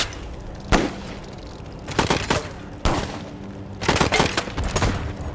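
Gunfire in the video game Wasteland 3, several sharp loud shots and short bursts spaced about a second apart over a low ambient bed, close and punchy.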